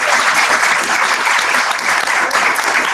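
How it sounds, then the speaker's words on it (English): A room full of people at a sales training event applauds regional consultants, dense continuous clapping that stays loud and even from start to finish with no speech over it. "Let's give them a round of applause."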